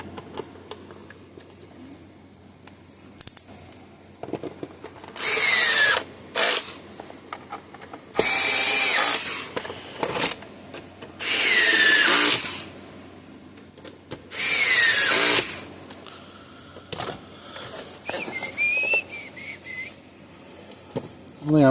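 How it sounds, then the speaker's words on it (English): A power drill runs in several loud bursts of a few seconds each, whining up and stopping, with clicks and quieter handling noises between, during repair of a Cashman CS6000 fence energizer. "Drill, screw gun go."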